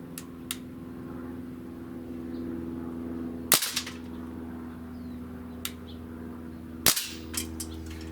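A BB rifle firing while a mounted scope is sighted in: two sharp, close shots several seconds apart, each with a brief clatter after it, over a steady low hum and scattered small ticks.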